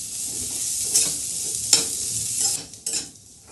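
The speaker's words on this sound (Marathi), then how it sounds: "1 मिनिटवर मी छान भेंडी परतवून घेतलेली आहे" Cooked okra bhaji with masala being stir-fried in a pan for a minute, a close crackling sizzle broken by scraping stirs and a few sharp spatula knocks, with no voices.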